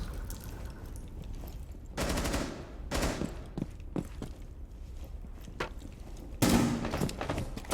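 Hip-fired gunfire bursts in Rainbow Six Siege, the first at about two seconds, another near three, then scattered single shots and a final loud burst near the end, over low background game ambience.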